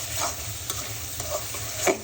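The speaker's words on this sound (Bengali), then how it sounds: "এখন ভালো করে একটু মশলাগুলো কষিয়ে নিব।" Spices fry and get stirred in a pan for a prawn curry with taro, a steady sizzle broken by a few scraping spatula strokes, close and with no voices.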